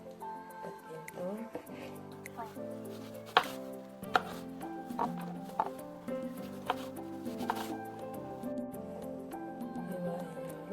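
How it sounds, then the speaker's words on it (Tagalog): Ginger is sliced with a knife on a board, giving a series of irregular sharp chops over soft background music, close and fairly quiet. "Hiwain yung luya."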